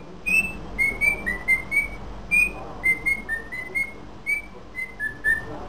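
A parrot whistles the well-known Armenian folk song Ashtaraki Popok: a sequence of clear, bright, sliding whistled notes in a steady melodic rhythm, fairly close and alone in a quiet room.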